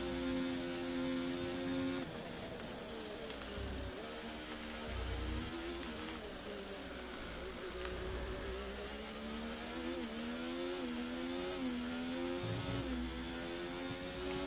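Formula 1 car in F1 24 at the British Grand Prix, its engine screaming at high revs and rising and falling through gear changes as it races, loud and continuous throughout.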